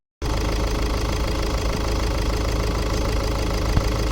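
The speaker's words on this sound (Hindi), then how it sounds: "हमने गाड़ी भी स्टार्ट कर दी है, आवाज़ सुन सकते हो।" A Range Rover engine idling after an AC compressor repair, a steady close mechanical hum with an even, smooth rhythm that starts abruptly and runs on alone.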